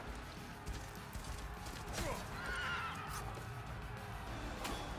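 A horse neighs in the video game Sons of Valhalla, a whinny ringing out mid-clip over steady clip-clopping hooves and a busy battle backdrop.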